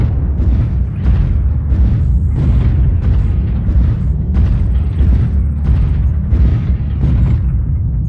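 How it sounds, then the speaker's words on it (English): Repeated heavy missile blasts in a combat video game, loud, dense, booming impacts rolling one after another with little pause, close and dominant over a constant rumbling backdrop. "Warning, incoming missile."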